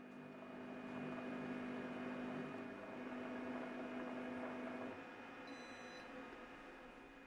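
A quiet hum from a Compact Cook Elite cooking machine runs steadily while making choux pastry, then a short series of high electronic beeps sounds near the end.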